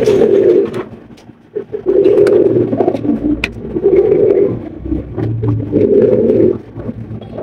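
Fancy pigeons coo loudly and close by in repeated low, throaty phrases with short pauses between them, alone without talk.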